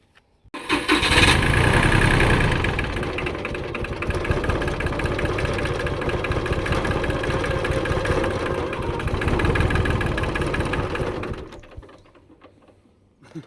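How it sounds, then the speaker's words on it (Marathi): A tractor's diesel engine cranks and catches, then chugs steadily at a loud, rough idle for several seconds before cutting out. "आता घेऊन चाललाय तो ट्रॅक्टर"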